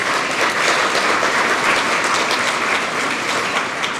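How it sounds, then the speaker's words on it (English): A room full of people applauds at the Acres for Auction 2022 event, a dense, steady wash of clapping that holds at an even loudness for the whole stretch, with no voice rising above it. "If you'd please join me in a round of applause."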